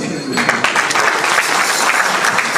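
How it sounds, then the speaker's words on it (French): An audience at a live show bursts into dense, steady clapping that stays loud and close throughout the short stretch. "On t'applaudisse."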